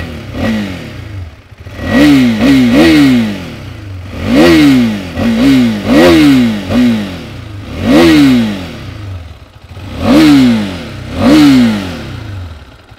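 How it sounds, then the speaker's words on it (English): A 2022 KTM RC390 motorcycle's engine and exhaust run close up, with a series of sharp revs rising and falling about every second or two, separated by a lumpy idle. "Let's turn that engine on and see how the exhaust sounds."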